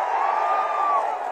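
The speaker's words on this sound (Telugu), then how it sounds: "గట్టిగా చప్పట్లు కొట్టి అభినందించండి" Audience at a TDP public meeting erupts in sustained crowd noise of clapping and cheering, a steady dense wash that stays loud and even for the whole moment with no pauses.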